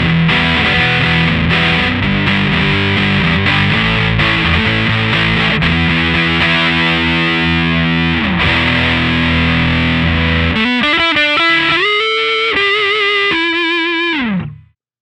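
Loud distorted electric guitar through a Godcity Instruments Brutalist Jr. distortion pedal with loudness at max, playing chords and riffs, then sustained bent notes that ring out and cut off abruptly at the end.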